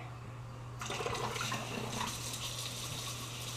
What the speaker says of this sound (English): Wash our hands.